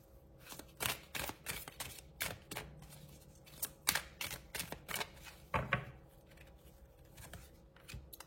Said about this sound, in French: Alors, je vais prendre 3 cartes comme ça.